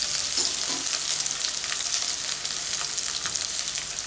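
Mutton liver fry masala with onions and green chilli sautés in a hot pan, giving a dense, continuous loud sizzle with scattered crackles and occasional stirring sounds throughout.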